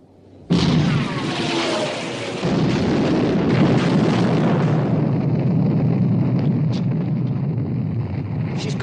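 A warship's main guns fire during a night naval battle against destroyers in a 1960 war film. A sudden loud boom opens into a sustained, roaring rumble of heavy gunfire and blasts, with a second surge of booms following shortly after.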